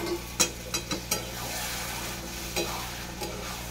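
Ginger and spice masala stir-fried in a pan, a steady sizzle under a few sharp scraping strokes of a spoon or spatula, close and fairly loud with no talk.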